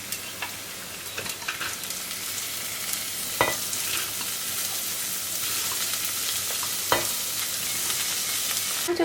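Soaked split peas sizzle and fry in oil with onion and turmeric, a steady close hiss broken by occasional scraping stirs and clinks of the spoon.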